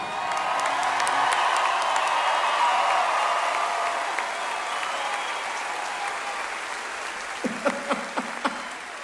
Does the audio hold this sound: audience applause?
yes